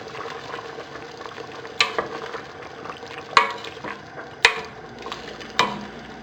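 A spoon stirs braised beef with carrots and celery in a pan, a soft sizzle underneath with four sharp clinks of utensil against the pan at irregular intervals.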